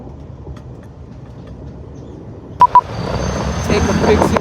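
A train rumbles along on its rails, quiet at first, then two sharp electronic beeps sound and the rolling noise swells louder and rougher toward the end.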